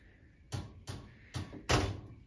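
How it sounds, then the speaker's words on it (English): A door is pushed shut in four soft thuds, spaced roughly every half second, the last one heaviest, in a quiet indoor room. "Can you close the door?"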